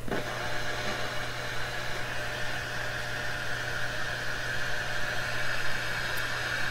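Steady hiss of static from a Heathkit GR-61 FM portable radio with a faint constant hum underneath, fairly loud and unchanging throughout, no voices.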